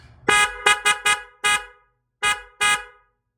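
A loud horn on a classic car or truck honks in a series of short blasts: a quick cluster of four, one more, then two final toots after a pause.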